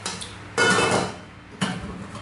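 Metal cookware clinks and clanks as an 18 cm Japanese saucepan is lifted and set down, two sharp bursts of clatter close by.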